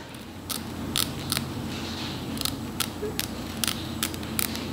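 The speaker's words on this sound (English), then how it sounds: "I love these scissors. They're really, really sharp." Sharp stainless steel shears snip through wig lace up close, a string of about ten crisp cuts at an uneven pace over a low room hiss, with no talking.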